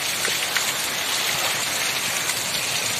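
Steady heavy rain pours down in a village during a windy pre-monsoon storm, a dense continuous hiss of drops striking surfaces close by, with no voices over it.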